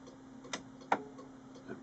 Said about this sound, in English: I'm just going to turn on the jolly old printer.